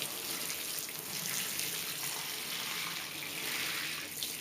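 Water pours steadily from a spout onto soil in a freshly potted dahlia's pot, a continuous close splashing trickle lasting several seconds with no talking.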